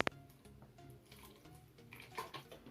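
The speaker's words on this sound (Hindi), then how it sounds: "सिंपली इस बाउल के अंदर थोड़ा सा पानी डालेंगे" Water poured from a bottle into a bowl for a cornflour experiment, a faint, soft splashing trickle at close range with a brief tap at the start and no talking.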